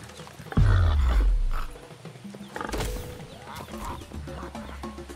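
A warthog in the video game Ancestors: The Humankind Odyssey lets out a sudden loud, deep squealing grunt that fades, followed by rustling and scattered animal noises in the game's ambience.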